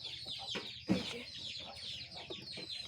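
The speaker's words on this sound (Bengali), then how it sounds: "কালকে আমাদের মাথায় টিক্কাওয়ালা মুরগিটা ডিম পেড়েছে" A crested village hen in a duck and chicken house clucks after laying an egg, giving a string of close, uneven clucks with one sharper, louder squawk near the start and no talking.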